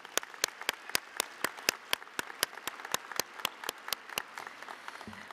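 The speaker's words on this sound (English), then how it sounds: "Let's give everyone a round of applause." Applause at a South Mountain Community College ceremony comes through as faint, evenly spaced claps, about four per second, in a quiet room.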